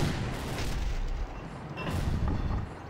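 A tank cannon fires in the Battle Supremacy video game, a deep rumbling boom with heavy low-end blast that decays over a few seconds, loud and close.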